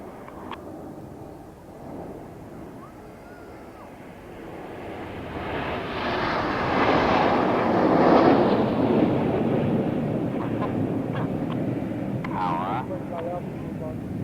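Red Arrows jets flying in formation at the Eastbourne International Airshow 2014, a broad roar swelling as they pass overhead and then fading, with an announcer talking over it.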